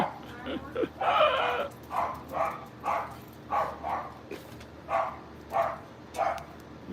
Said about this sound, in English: that little dog over there is a little Shih Tzu